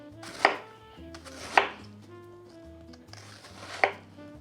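A knife thinly slicing an onion for pickling, three separate crisp cuts landing on a board about a second apart, close and fairly quiet, with brief soft handling sounds between them.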